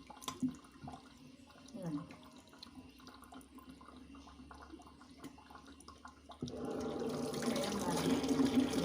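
Separated seeds and pods are washed in water at a village home: a quiet stretch with faint background sounds gives way, after about six seconds, to steady, close running and splashing water that continues to the end.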